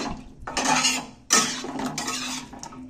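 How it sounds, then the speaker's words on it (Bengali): Goat meat curry simmering in a pot gets stirred after garam masala is sprinkled in, a spoon scraping and clinking against the metal in two bursts of stirring, fairly close with a low bubbling underneath. "গরম মশলা দিয়ে একটু নেড়ে চেড়ে নিচ্ছি।"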